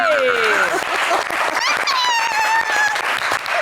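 A studio audience on a French-language television game show applauds qualified contestants, dense continuous clapping throughout, with a host's voice and whoops or cheers rising over it.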